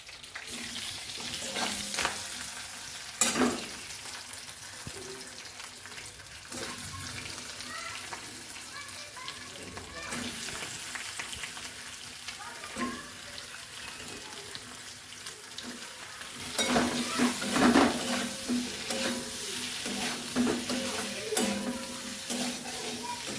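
Chopped potato pieces go into a hot pan for a dosa filling, giving a steady close sizzle with scraping, stirring clatter and a few louder bursts as they fry.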